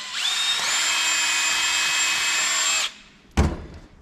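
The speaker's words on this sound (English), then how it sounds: "we can go ahead and drill the hole in the top here" A power drill with a 29/64 bit bores a hole, a loud steady whine for nearly three seconds before stopping, followed by a single close thunk.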